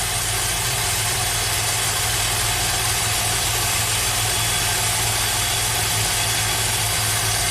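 A Pontiac GTO V8 idling with a misfire, a steady, close, loud engine drone with a faint uneven stumble under the rumble. No talking is heard.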